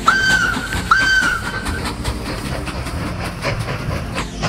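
Train in the game Mashinky sounding two clear whistle blasts, one right after the other, over a steady rolling clatter of wheels on track.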